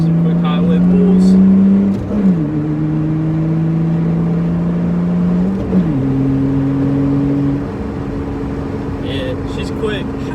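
A 2003 Mitsubishi Eclipse with a short shifter pulls hard on the highway, its engine droning loud and steady with rising pitch, dipping briefly at two gear changes before climbing again, wind and road noise underneath.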